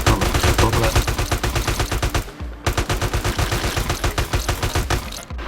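AK-47 rifle fire in the video game GTA Ukraine, loud rapid automatic bursts of evenly spaced shots, with a brief pause before a second long burst.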